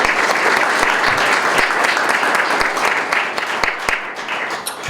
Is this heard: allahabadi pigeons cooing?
no